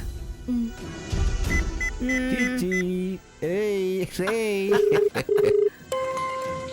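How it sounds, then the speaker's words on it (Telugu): A mobile phone ringing indoors in a Telugu TV serial scene, a melodic ringtone playing a sequence of stepped electronic notes, loud and close, repeating with brief gaps and underscored by background music. "ఫోన్ వస్తుంది"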